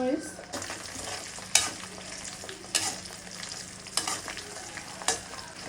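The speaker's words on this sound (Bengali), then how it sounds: "কাঁচা মরিচটা এক মিনিটের মতো ভেজে নিয়ে" Green chillies frying in a pan for a chutney of wood apple, a soft continuous sizzle broken by a few sharp scraping stirs of a spatula, close and fairly quiet.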